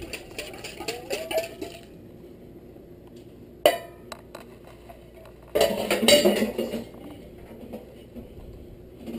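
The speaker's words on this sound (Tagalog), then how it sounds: "Haluin po natin." Pancit canton and bihon noodles with a sauce mix being stirred in a pan, with intermittent clinks and scrapes of utensil on metal, a sharp knock midway and a louder burst of stirring near the end.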